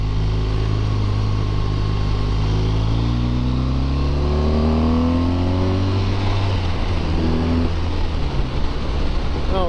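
A 2017 BMW R1200RT motorcycle engine drones while riding, loud and steady under wind rush, with pitch sweeping up and down through gear and speed changes.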